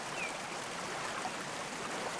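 Kayak paddle churning river water in Whitewater VR, a steady close rushing and splashing wash that holds evenly throughout.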